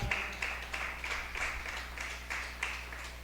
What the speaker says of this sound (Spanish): Voy a darle un fuerte aplauso al Rey de Reyes